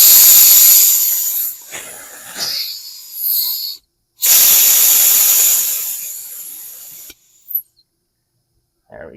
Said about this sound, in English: sometimes you can get air leaking through the bleed screw